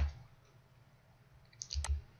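A few quick computer mouse clicks on a QGIS layer, sharp and close, with a small cluster near the end against a quiet background.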